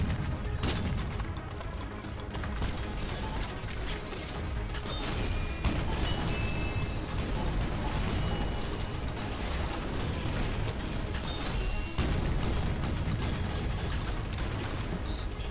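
Rapid, dense gunfire and explosions from the video game Synthetik 2, a continuous loud barrage of shots and crashes with no pauses across the whole stretch.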